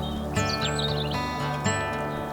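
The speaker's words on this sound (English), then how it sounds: "the chirping of sparrows" Sparrows chirp in short, scattered high tweets over a steady background hum, fairly close and without any voices.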